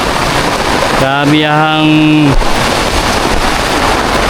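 Heavy rain pouring down on crops and a jackfruit tree, a steady broadband hiss filling the whole clip, with a person briefly speaking over it partway through.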